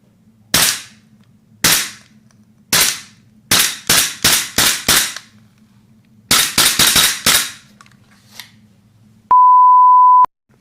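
A gas-powered Poseidon Orion 2 gel blaster fires sharp, loud cracks through a chronograph, first as single shots, then as quick bursts of four and six, followed by an electronic beep from the chronograph.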